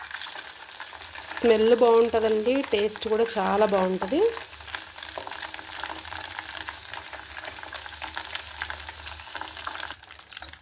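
Curry leaves sizzle in hot homemade ghee, a steady close crackle under a voice speaking for the first few seconds, then frying on alone.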